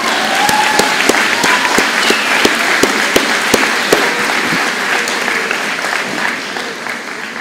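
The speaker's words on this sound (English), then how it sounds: "you can applaud for them anytime you want." An audience at a college graduation ceremony applauds the graduates, a loud, continuous roar of clapping with a few sharp, distinct claps standing out near the front, fading slightly toward the end.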